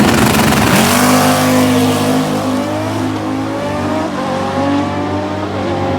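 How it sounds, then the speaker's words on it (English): A Kawasaki ZRX 1100 drag motorcycle launches hard down an NHRA drag strip, its engine screaming loud and close as it revs up through the gears, pitch climbing steadily with no talk over it. "Nice, clean, smooth launch for Mark."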